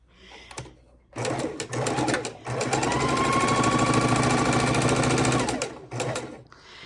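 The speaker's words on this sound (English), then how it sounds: "And we're going to go ahead and start sewing our blocks" A sewing machine stitches quilt blocks made from 2 1/2-inch scraps, running in a steady, close, rapid mechanical whir for several seconds, with brief starts and stops at either end.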